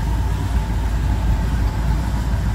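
A van engine runs after being repaired, giving a steady, close, low rumbling idle with a faint tonal hum and no other sounds on top.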